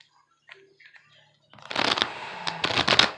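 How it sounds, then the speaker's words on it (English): Tarot cards being shuffled by hand, a few faint soft riffles first, then a denser run of papery flutters and snaps close by, quiet overall. "every time I shuffle the cards this way"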